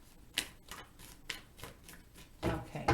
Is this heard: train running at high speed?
no